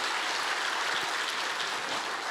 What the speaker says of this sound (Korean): 오솔길 목사님께도 박수 한번 부탁드립니다